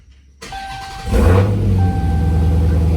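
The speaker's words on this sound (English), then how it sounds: "Now start the vehicle." A Dodge Hellcat Challenger engine cranks and catches, jumping from near silence to a loud, close rumbling idle that stays steady afterward.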